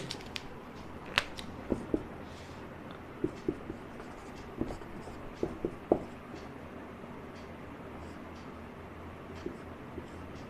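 A pen writing out a chemistry reaction product, faint scratching broken by light taps and clicks, close up under quiet room tone.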